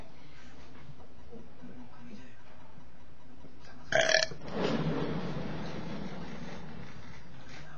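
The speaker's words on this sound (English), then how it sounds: "Was that one of the biggest burps in the world?" One loud, long burp erupts after a short sharp noise, rising from a quiet room and trailing off slowly over a few seconds.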